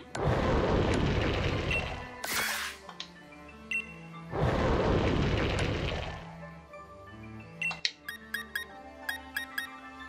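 Dark Shot attack in Pokemon Sword and Shield: two roaring blast bursts with a sharp swoosh between them, followed by quieter tonal game effects and a series of light ticking chimes.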